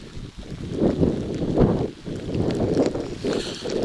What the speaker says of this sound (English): when it's windy and blustery